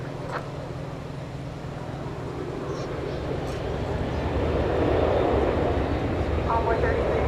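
Airplanes at DFW Airport at night, a steady broad jet roar that swells louder toward the end, with a faint distant voice underneath.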